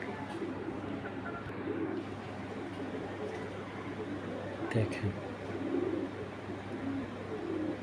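Racing pigeons coo softly and steadily at close range in a loft, with someone talking over them and a faint clatter partway through.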